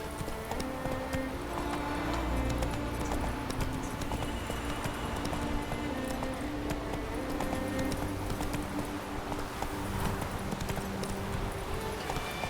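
Horse hooves clip-clop steadily and close through the whole stretch while riding in The Witcher 3: Wild Hunt, set against a dense bed of game music and ambience, with no talk.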